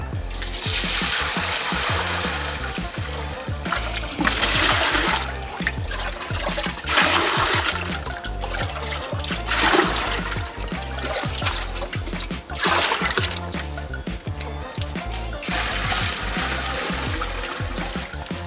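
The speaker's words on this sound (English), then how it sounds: "so now I'm washing the beans for our waakye" Water sloshes and splashes in bursts as beans for Ghanaian waakye are swished and rinsed, with trickling and pouring between the louder surges.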